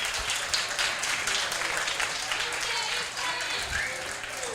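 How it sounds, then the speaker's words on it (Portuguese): Steady, moderately loud applause from an audience at a live show, a dense wash of clapping with a few excited voices mixed in. "eu gostaria de uma salva de palmas para vocês mesmo"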